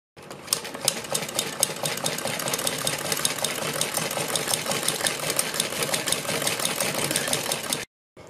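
A sewing machine runs steadily as it stitches fabric for a neck design. The rapid, even whir and needle clatter go on close and loud, then cut off abruptly near the end.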